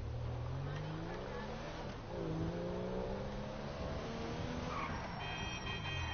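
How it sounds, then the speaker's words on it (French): A motorcycle engine in a video game revs and shifts through gears continuously, loud and close, with skidding tires, beneath a busy game soundtrack. "Ok, c'est la moto."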